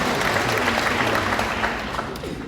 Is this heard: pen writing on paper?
no